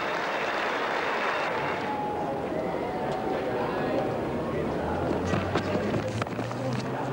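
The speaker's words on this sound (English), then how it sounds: "And Andrew Jones, his last test innings, he's getting a tremendous support from the crowd here in Christchurch." A cricket crowd at a 1994 New Zealand vs Pakistan Test match in Christchurch applauds steadily throughout, a broad, continuous wash of clapping heard beneath a commentator's talk.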